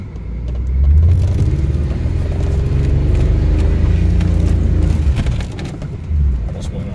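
A BMW E36 engine is held at full throttle through a skid, with a loud, sustained, close rumble and roar that holds steady for several seconds before easing slightly near the end.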